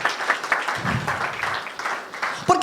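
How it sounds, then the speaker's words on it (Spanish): A church congregation breaks into dense, continuous applause, loud and close, with faint voices mixed into the clapping. "dale un aplauso fuerte a Dios"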